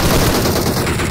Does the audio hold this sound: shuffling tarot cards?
no